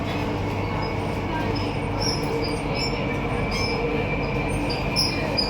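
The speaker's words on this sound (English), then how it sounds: "Chennai Metro Station." A Chennai Metro train at the station, a loud continuous rumble of wheels and running gear with high metallic squeals rising now and then, close and steady.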